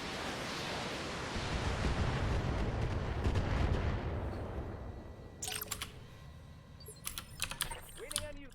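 Missile salvos from a mech in the Battletech video game, a dense rushing roar of launches filling the first half before thinning out, followed by sharp scattered impact cracks, with a voice speaking faintly underneath.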